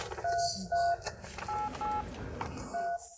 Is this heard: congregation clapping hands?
no